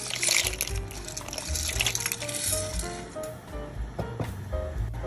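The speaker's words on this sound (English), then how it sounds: "So now I'm boiling in the salted water the chickpea pasta, which is actually made with veggies." Chickpea pasta made with vegetables boils in a pot of salted water, giving a soft, steady bubbling and sloshing of liquid, close but fairly quiet, with no voices.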